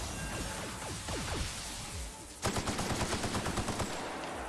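Rapid gunfire in the video game The Outer Worlds, a loud close burst of evenly spaced shots after a stretch of whooshing game effects, with no talking.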